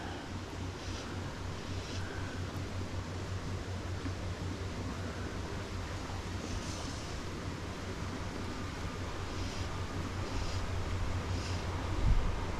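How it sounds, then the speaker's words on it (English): Strong wind buffets a microphone outdoors, a steady low roaring rumble across the whole stretch with a brief louder gust near the end and no talk. "Go away, wind."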